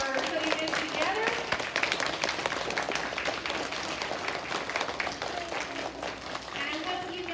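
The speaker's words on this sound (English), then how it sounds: "Give a round of applause to Ms. Jackson for putting this together." A school awards assembly for a third-grade class, where the audience gives Ms. Jackson a round of applause; dense, steady clapping from a crowd continues for several seconds at a fairly even level.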